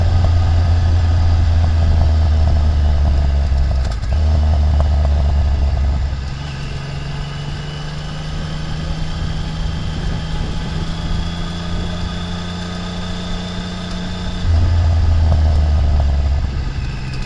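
A 1993 Triumph Tiger 900 motorcycle engine drones loudly and steadily, fades to a lighter whine for several seconds, then surges back with deep throaty revving.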